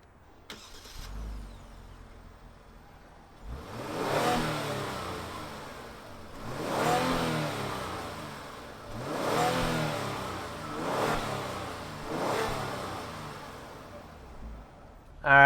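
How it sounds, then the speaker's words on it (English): A 2020 Genesis G90 rear-wheel-drive sedan starts up and is revved four times in a row, each swell rising and falling, with a quieter idle between revs. "why don't we fire it up and hear what it sounds like."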